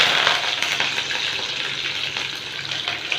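Mustard seeds, urad dal and curry leaves sizzle and crackle steadily in hot oil while tempering a banana stem chutney, a close, continuous frying hiss with scattered pops and no talking.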